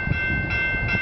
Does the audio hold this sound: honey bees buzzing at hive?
no